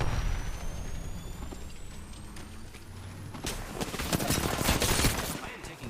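Video game gunfight with rapid bursts of gunfire over a rumbling background, growing louder and denser in the second half, with a faint tone sweeping upward before the firing intensifies.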